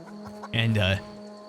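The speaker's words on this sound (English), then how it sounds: "Nice to see chickens made it across the galaxy." Chickens in the video game The Outer Worlds give a short burst of clucking, close and fairly loud over a faint steady background hum.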